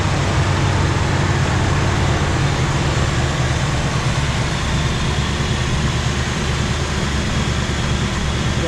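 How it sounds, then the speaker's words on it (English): A 1965 Buick Riviera with a 425 Wildcat V8 idles steadily, a continuous low rumble with broad mechanical noise, constant and close throughout with no talk over it. "Engine sounds fantastic."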